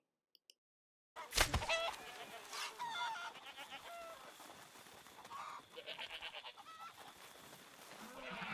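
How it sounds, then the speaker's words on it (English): Chickens cluck and squawk in a Red Dead Redemption 2 hunting challenge, a busy, steady stream of overlapping bird calls after a brief silence, with a sharp burst near the start and no talking. "pick off your chickens, and get 8 of them consecutively"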